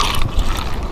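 A loose clutch on a fishing reel, used for pike fishing with lures, gives off a short, close burst of rapid ratcheting clicks lasting under a second.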